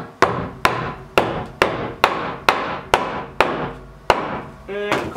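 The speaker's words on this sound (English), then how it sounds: "and then take your hammer" A hammer strikes a nail into a wooden board with steady, hard blows, about nine evenly spaced whacks, close and loud, with a brief voice at the end; building a root cellar.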